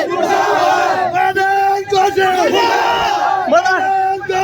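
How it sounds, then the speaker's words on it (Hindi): A crowd at an open-air protest in Haridwar, Uttarakhand, shouting slogans in unison, loud and sustained, with many voices rising and falling together in chanted rhythmic calls. "मुर्दाबाद के नारे देख सकते हैं"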